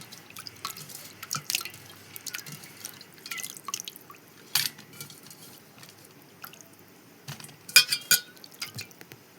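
Fish being rinsed under running water, soft scattered drips, splashes and wet squishing handling sounds, close and fairly quiet with irregular louder bursts.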